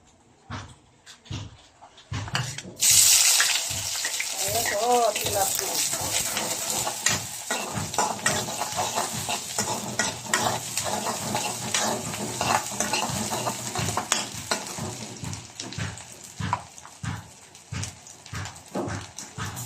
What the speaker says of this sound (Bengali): এই কয়েক পিস মাছ আমার জন্য রান্না করবো।